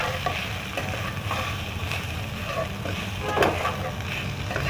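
Mushrooms stir-fry with black pepper powder in a pan, giving a steady, close sizzle and crackle throughout, broken by scattered scrapes and taps of the spatula.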